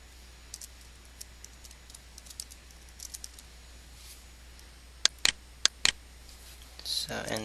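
Code is typed on a computer keyboard with sparse, quiet key taps, then a few sharper louder clicks and a brief rustle at the end, faint and close.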